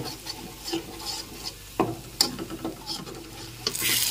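Ginger garlic paste being stir-fried in oil in a pan for a Bengali tilapia curry, a soft sizzle broken by scraping and tapping of a spatula, close, with a louder hiss building at the end.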